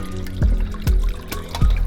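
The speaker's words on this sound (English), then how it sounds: "We're gonna go ahead and put in our stock." Stock poured into a pot of jollof rice base, splashing and trickling in a few short liquid bursts with brief pauses between them.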